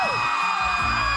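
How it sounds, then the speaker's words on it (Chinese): A crowd of fans at the Golden Bell Awards ceremony lets out a loud, continuous, shrill scream for a brief moment. "给柯家燕一个尖叫好不好？"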